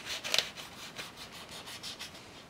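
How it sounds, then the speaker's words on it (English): Old thermal paste being scraped off a laptop heatsink with IPA on a Lenovo IdeaPad Pro 5, a quiet close rubbing and scraping in short repeated strokes, with one brighter scratch early on. "Just using a little IPA for this, and just scraping that off, and then doing the same for the CPU"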